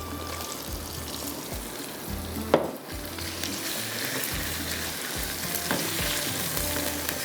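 Chicken coated in red chili, salt, turmeric, cumin and ginger-garlic paste fries with onions in a pan, a steady close sizzle with occasional stirring clatters and scrapes, no voices.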